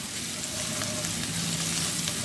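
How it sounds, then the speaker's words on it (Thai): Garlic sizzles steadily in hot oil, a dense continuous frying hiss with faint crackles, close and fairly quiet with no talking. "เราเจียวแค่พอเหลืองนะ ไม่งั้นเดี๋ยวเขาจะไหม้เกิน"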